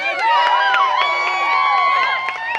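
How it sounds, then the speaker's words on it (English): Wedding guests at a reception cheer and whoop loudly with high, overlapping voices and scattered claps, a lively burst of celebration after a toast. "Round of applause for Jade, everyone."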